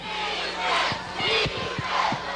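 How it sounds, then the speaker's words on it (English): Independence home crowd at a high school state playoff football game chanting "Defense" in loud, rhythmic repeated bursts, a massed voice cheering from the stands. "Defense is being chanted by the Independence home crowd"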